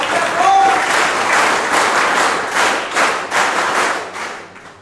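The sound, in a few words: applause welcoming the principal at school ceremony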